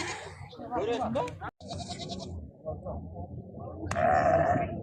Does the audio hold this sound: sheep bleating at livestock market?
yes